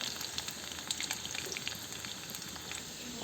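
Finely chopped garlic sizzles and crackles in a pan as it is stirred for pasta, a soft, steady frying hiss with faint scraping taps, close but quiet, with no talking.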